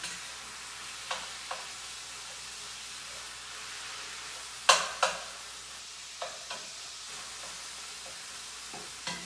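Ground beef with smoked paprika frying in a pan, a soft continuous sizzle with a few sharp utensil scrapes and clacks as it is stirred, one louder knock near the middle.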